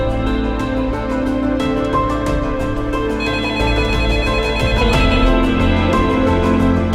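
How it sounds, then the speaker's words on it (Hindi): A phone ringtone plays continuously, a steady looping electronic melody ringing loudly and insistently with no voices. "अरे यार, रात के इस टाइम किसकी कॉल आ गई है?"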